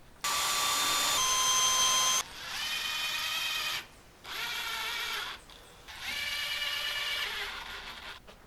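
A power drill drives screws to fix a wooden foldable workbench in place, with three or four sustained whirring runs separated by brief pauses, loud and close, with no talking.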